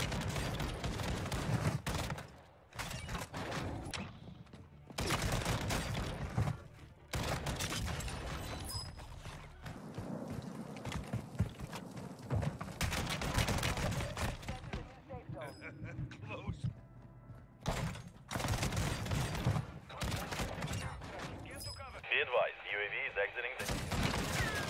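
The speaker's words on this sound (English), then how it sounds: "This shotgun is not fair." Dragon's Breath shotgun in Warzone 2 gameplay, heavy blasts fired in fast repeated bursts with short pauses between, loud and close, alongside other game sounds.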